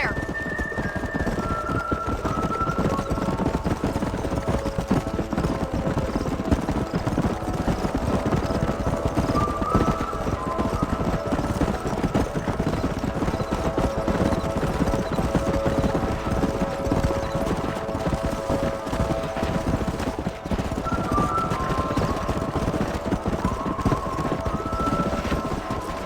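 Horses galloping in the Red Dead Redemption video game, a steady stream of hoofbeats running the whole time under a continuous music bed, with no voices.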